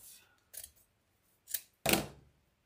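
Scissors snipping the ends off deco mesh wreath tails, three short crisp cuts spaced apart, the last the loudest and longest, with a faint sound at the start, heard up close in a quiet room.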